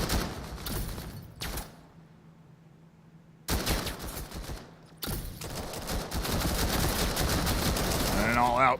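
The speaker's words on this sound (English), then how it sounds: "an all-out pistol brawl unfolds here" Pistol gunfire crackles in the competitive VR shooter VAIL during a round, with bursts of rapid shots separated by quiet gaps, then dense continuous firing toward the end.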